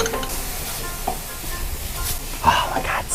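Leeks, garlic and ginger sizzle softly in a pan while being stirred, a steady low hiss broken by a few scraping spoon strokes, with a brief voice murmuring underneath.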